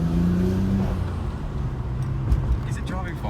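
A Nissan GT-R with a new exhaust drives along, its engine a steady low drone beneath the road noise, and people talk over it inside the car.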